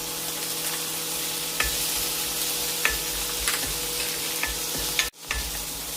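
Chopped tomatoes and green chillies fry in a pan for rasam, a steady close sizzle broken by occasional stirring clicks, with a brief sharp break near the end.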